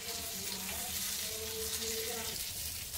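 Amla chutney ingredients, cut ginger and garlic cloves, fry on a low flame with a continuous soft hiss and gentle sizzle, heard close and alone without talk.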